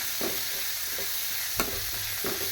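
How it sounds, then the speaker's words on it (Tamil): Onions sauté in oil while being stirred, a steady close sizzle broken by a few soft scraping strokes and one clearer knock of the spatula, without any talking. "இந்த வெங்காயம் நல்லா வதங்கணும் நல்லா வதங்கட்டும்"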